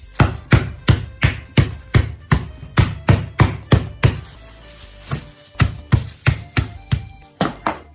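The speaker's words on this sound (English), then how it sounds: "By pounding the lotus root like this, you break down the cell walls" Lotus root is pounded to crush it, giving a steady run of heavy, close thuds at a brisk even rhythm, about three per second, with a brief quieter pause midway before the pounding resumes.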